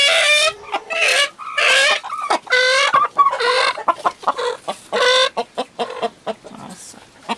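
Chickens on a rural farm cluck and squawk loudly and close by, a busy run of repeated rhythmic calls with a few short gaps, no talking.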